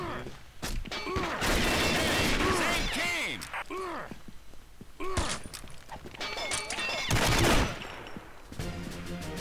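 Grenades and gunfire in the shooter game Combat Arms, with repeated loud bursts and blasts through the clip and a dense, busy game mix.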